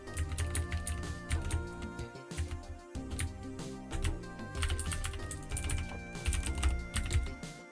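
A computer keyboard being typed on while coding in Blitz Basic on an Amiga, close rapid irregular key clatter in bursts with brief pauses, alongside a single spoken word.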